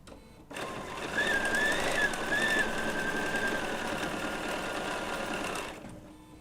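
A Bernina B790 PRO sewing machine stitching wool appliqué with an open-toe foot, its motor starting up into a steady whirring hum with a faint whine, running continuously for several seconds before stopping, close and alone.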